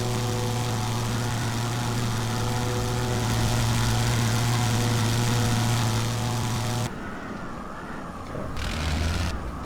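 A WWI aircraft engine in the Wings Over Flanders Fields game drones steadily at close range while landing, then cuts off abruptly and blips back up briefly in short bursts near the end.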